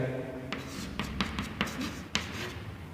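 Chalk or marker tapping and scratching out an equation on a board, a few short irregular strokes close by, with a voice speaking over them.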